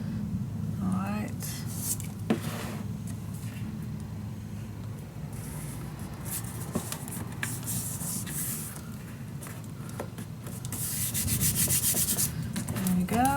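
Paper being burnished down by hand on a storage unit craft project, a steady soft rubbing and scuffing that runs throughout at close range, growing slightly louder near the end.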